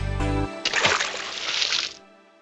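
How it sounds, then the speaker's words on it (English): An animal tumbles into a deep well with a sudden close splash of water, splattering briefly for over a second before settling into quiet. "he lost his balance and fell in the well"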